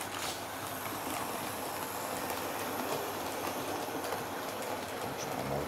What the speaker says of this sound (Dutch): Dat is wel een mooie trein.